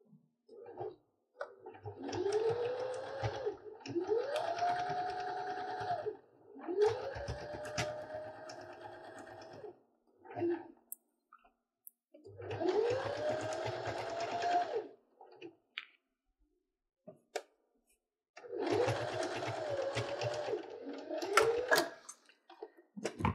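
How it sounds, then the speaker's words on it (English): A sewing machine stitches quilt layers together in several separate bursts of fast, even needle chatter with short pauses between runs, each burst rising and falling in pitch, up close and fairly quiet. "that's why you get long arm sewing machines specifically for quilting"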